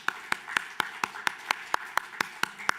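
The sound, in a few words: congregation clapping in church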